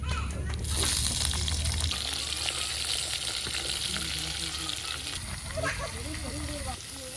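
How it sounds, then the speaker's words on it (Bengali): Chopped bottle gourd hits hot oil in an outdoor village cooking pot, setting off a loud, dense sizzle that fills the whole stretch, with stirring scrapes and a speaking voice partly over the frying. "তেল গরম হয়ে গেছে, এখন লাউটা দিয়ে দেব।"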